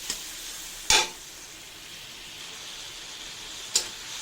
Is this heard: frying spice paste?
yes